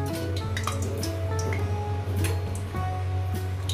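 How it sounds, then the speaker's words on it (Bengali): Seasoned hilsa fish paste is poured gradually into hot oil, a loud continuous sizzle and crackle with small popping ticks, close and steady with no talking. "আমি এই মাছ মাখাটা এর মধ্যে ঢেলে দেব"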